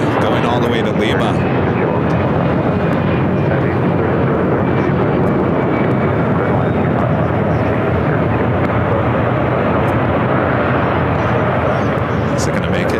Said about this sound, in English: Polar Air Cargo 747, I believe this is an 8.